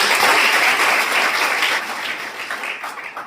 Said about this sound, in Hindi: एक बार मन से उनको नमन करते हुए जोरदार ताली हम लोग बजाएंगे